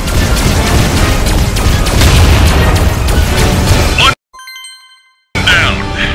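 A zeppelin cannon being shot down in Skylanders Trap Team bursts into loud, dense booming explosions for about four seconds, then cuts to near silence with a bright chiming jingle before the blasts return.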